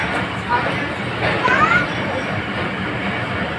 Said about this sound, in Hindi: और इस वक्त हम गोटकी रेलवे स्टेशन से गुज़र रहे हैं